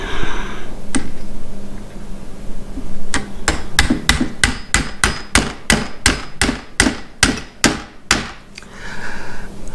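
A hammer taps parts into place on a PCP air rifle during a hammer-spring change: about fifteen sharp, close metallic strikes in a steady, quickening rhythm after a single early knock, with no talking.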